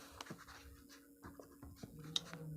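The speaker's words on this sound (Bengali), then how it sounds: "তো আমি এখানে লিখব" A pen scratches on paper during a class 7 math lesson, soft irregular strokes and taps close by with faint pauses between them.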